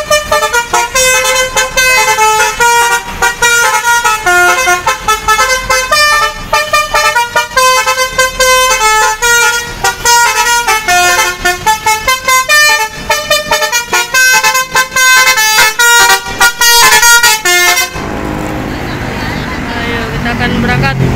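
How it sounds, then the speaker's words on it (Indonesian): A Tunggal Jaya Neptune bus sounds its loud musical horn as it departs, a rapid repeating melody of bright tones played close and continuously before cutting off into engine and street noise. "ini sepertinya bus Tunggal Jaya Neptune akan berangkat menuju Kuningan"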